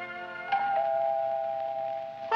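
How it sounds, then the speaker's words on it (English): A cartoon doorbell from a 1960 Felix the Cat episode rings with a sustained, bright chime tone that holds for about two seconds, followed by a short, louder second strike at the end. "The doorbell."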